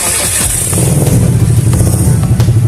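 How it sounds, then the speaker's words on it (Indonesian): Motorcycle engine idling steadily after being started during electrical testing, a close, even low rumble with light rhythmic pulsing. "hidupkan mesin untuk mengukur"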